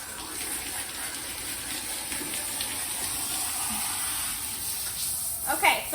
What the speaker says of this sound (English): I'm gonna keep working on rinsing his whole body, finishing his tail.